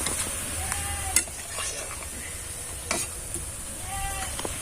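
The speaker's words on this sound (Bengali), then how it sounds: "এই দেখো একদম লাল লাল করে ভেজে নিয়েছি।" Pilu pitha, a Bengali rice-flour dumpling, frying in hot oil, giving a steady soft sizzle with occasional stirring clinks and sharper pops, close by and alone with no talking.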